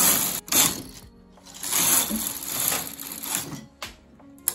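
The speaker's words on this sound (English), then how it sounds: "I'm going to knit 2 rows in the tape yarn" Knitting machine carriage sliding across the needle bed while knitting rows of tape yarn, close clattering and rasping passes in bursts with brief pauses between strokes.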